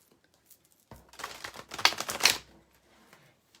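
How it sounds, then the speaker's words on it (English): A Halloween-themed card deck is shuffled close by, a quick papery riffle and flutter lasting about a second and a half, then quiet. "I love this Halloween deck. Here we go. One more shuffle."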